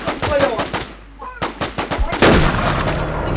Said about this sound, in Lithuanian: Šaudo mane.